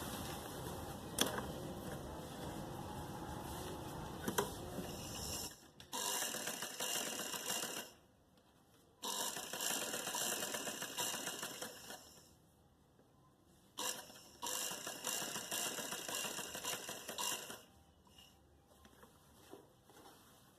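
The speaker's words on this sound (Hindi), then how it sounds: "यहाँ से सिलाई शुरू करूँगी, यहाँ पे ख़त्म करूँगी।" A sewing machine stitching a neck design onto the front of a kameez, running in three separate bursts of a few seconds each with quiet pauses between, close and fairly soft.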